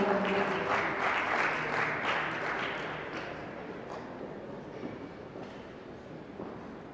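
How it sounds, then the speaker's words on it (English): Applause from spectators at a 10m air pistol competition, a burst of clapping that is strongest at first and gradually thins and fades over several seconds. "a big applause for him"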